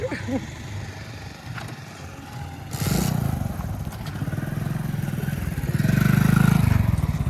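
A motorbike engine starts up and revs in loud surges, idling between bursts, heard up close with faint talk early on.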